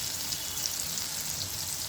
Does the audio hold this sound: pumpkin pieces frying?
yes